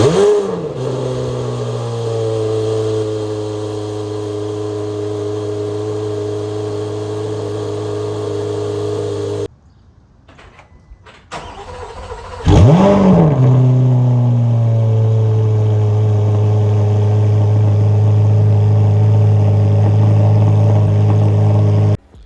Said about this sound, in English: Here's a clip of starting the car up in stealth mode versus track mode.